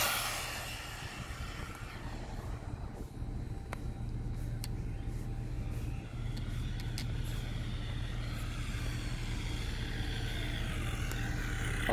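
An Absima AB3.4 RC car on a full-throttle speed run gives a steady, continuous whine and rumble, constant in level throughout, with no talk over it.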